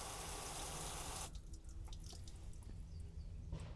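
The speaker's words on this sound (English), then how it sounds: "I'm going to blast the water from this side here." Pressure-washer water spray blasting onto plastic car trim coated with trim protectant, a steady broadband hiss that cuts in after about a second of louder rushing and continues alone with faint splatter.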